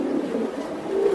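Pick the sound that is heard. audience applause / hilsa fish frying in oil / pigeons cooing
pigeons cooing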